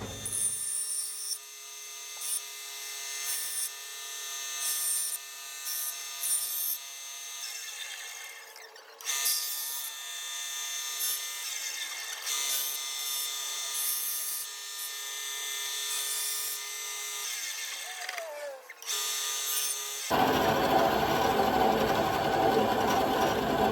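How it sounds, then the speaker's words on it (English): A power saw, likely a band saw, cuts and shapes a holster: a steady, loud, high-pitched whine with small shifts in tone as the blade works the material, ending in a harsher, broader burst of noise. "let's get to the saw and get this thing shaped a little better"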